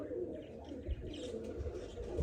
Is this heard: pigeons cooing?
yes